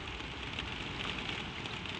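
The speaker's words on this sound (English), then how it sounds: "with the rain falling soft and steady on the tall leaded windows and running down the glass" Gentle rain falls soft and steady against tall leaded windows, an even, close hiss of drops on glass with no pauses or voices, calm and continuous throughout.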